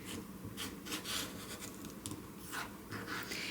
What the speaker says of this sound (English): you're going to trim it off on both sides